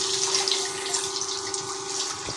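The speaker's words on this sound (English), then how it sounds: "Like I'm trying to put water in here." Water pours steadily into a container set up for a siphon demonstration, a continuous close rushing flow with no talk.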